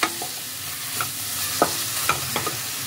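Radish stirred with cumin powder and spices in a pan, a spatula scraping in a few distinct strokes over a soft, steady sizzle, close and moderately loud with no voices.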